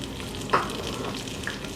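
Seasoned potatoes frying in a pan, a soft, steady close sizzle with one brief scrape or tap of a utensil.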